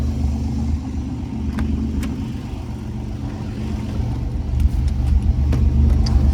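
A 1987 Pontiac Fiero GT with a 2.8L V6 engine idling close by, a steady low rumble that swells slightly toward the end, with a few faint clicks and no talk.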